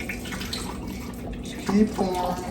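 Liquid ice cream base poured into a measuring cup makes a soft, steady trickle that swells briefly near the end, close up and low in level.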